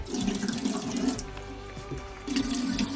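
A household tap with low water pressure runs in a steady, thin rushing stream, a continuous close splashing flow with no voices.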